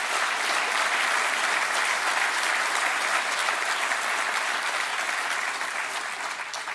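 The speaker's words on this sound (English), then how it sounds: "So give President Dennis Murray another round of applause for his good work." A large audience applauds President Dennis Murray during a State of the State and budget address in Dutchess County, a dense, loud, continuous wash of clapping that tapers slightly near the end.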